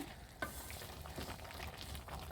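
Dried fish curry with jackfruit seeds simmers and sizzles softly while a spoon stirs it in a pot over a clay stove, with a single scrape near the start and faint, brief crackles throughout.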